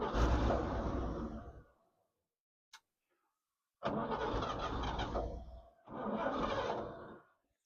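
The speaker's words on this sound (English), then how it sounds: "The only way I can seem to crank it is from the key" A 1955 International R160 dump truck engine cranked with the key in three bursts of loud, churning starter grind, separated by silence and a brief click, without catching.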